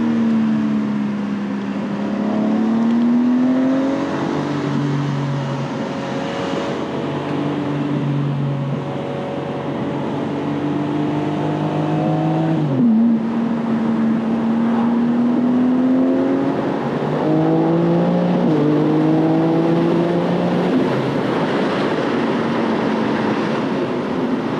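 A BMW G82 M4 Competition accelerates hard, its engine note sweeping upward through several gears with short drops at each shift, loud and close with no voices.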